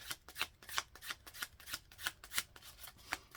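Oracle cards are shuffled by hand in quick riffling bursts, a rapid regular run of soft papery flicks, close but quiet, with no voices.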